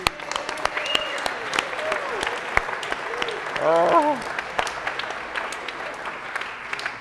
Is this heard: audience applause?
yes